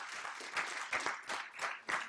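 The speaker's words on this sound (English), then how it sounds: "I want y'all to give them a round of applause." A small church congregation claps quietly in a loose, uneven rhythm, with about half a dozen soft bursts over a couple of seconds.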